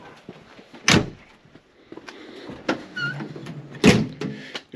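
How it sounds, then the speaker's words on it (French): Doors and power windows of a 1994 Chevy G20 Mark III conversion van shutting, with two loud thuds of doors closing, lighter knocks and a brief whirring window motor in between, nearby and without talking. "Et toutes les portes, les fenêtres ferment sans difficulté."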